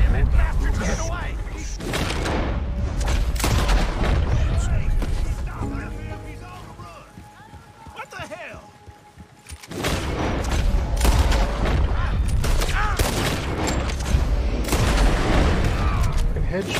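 Gunshots in the video game Red Dead Redemption II, a heavy run of loud booming shots and crashes, a quieter lull midway, then another dense barrage, with a voice talking over parts of it.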